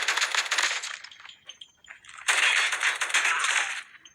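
The Oden gun fires in a video game in two sharp, crackling volleys separated by a short gap, loud and close, with the second burst heavier than the first.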